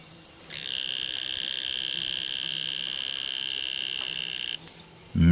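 Tropical frog call in a humid rainforest around an almendro tree: a steady, sustained high trilling tone that runs unbroken for about four seconds at moderate level, then stops, over quiet forest ambience.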